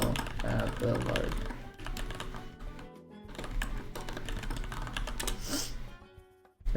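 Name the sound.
typing on a keyboard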